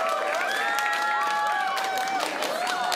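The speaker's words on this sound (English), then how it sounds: "Round of applause for these competitors." Audience at a 30-pound robot combat event applauds and cheers, a dense wash of clapping and crowd noise sustained throughout without a break.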